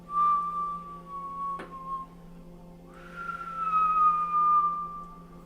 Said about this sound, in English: we stay in this position gracefully with whistling breath. We whistle on the exhale and on the inhale.